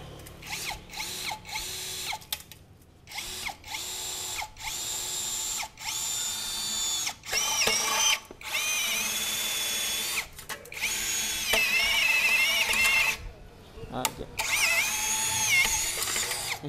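A power drill fitted with a hex bit bores into a U-shaped channel, its motor whining loudly and close in repeated bursts broken by short pauses.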